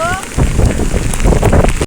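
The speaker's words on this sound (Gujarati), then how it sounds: "બહુ વરસાદ પડી રહ્યો છે" Heavy rain falls hard during flooding, a loud, close, continuous downpour with scattered heavier drop hits and a short tonal blip at the start.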